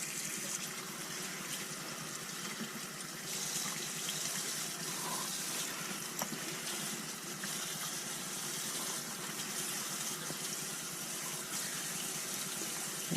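A stock pot filling with water from a kitchen tap, a steady continuous gush and splash of liquid running without pause, close by with no talking.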